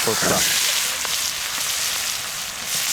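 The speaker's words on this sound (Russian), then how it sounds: "Лук жарится быстро. На раскаленном." Onions fry in a very hot pan, a loud, dense, steady sizzle up close with a short spatter near the start and a faint voice underneath.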